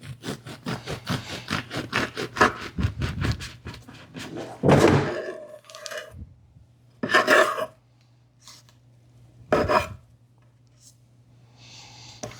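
A Damascus steel bread knife made from ball bearings saws through a loaf in quick rasping strokes. After the sawing come a heavy thump and several separate crunchy cuts, spaced apart and close by.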